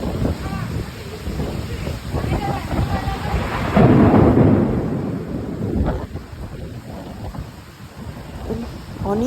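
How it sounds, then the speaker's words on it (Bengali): Heavy wind-driven rain falls in a thunderstorm with deep rolling thunder. A loud rumbling swell peaks midway over a constant roar of rain and gusty wind noise. "অনেক জোরে জোরে বজ্রপাত হইতেছিল"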